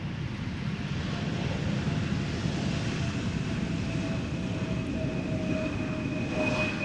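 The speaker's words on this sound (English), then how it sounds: "this is a KLM Embraer 175 arriving from Newcastle" A KLM Embraer 175 airliner arriving at Amsterdam Schiphol, heard as a steady distant roaring rumble of jet engines with faint whining tones, continuous and even throughout.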